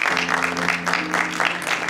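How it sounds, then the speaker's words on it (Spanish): An audience gives a short burst of clapping, fairly close and full, with a low steady hum running under it. "un aplauso para el Dani"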